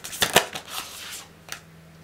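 Tarot cards are shuffled by hand in a few short, crisp riffling bursts close to the microphone, then fade to quiet.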